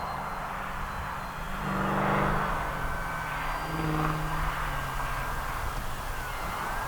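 An RC P-51 Mustang warbird model makes a flyby, its engine a thin steady drone that swells as it passes overhead and then eases away, heard over constant outdoor wind rumble.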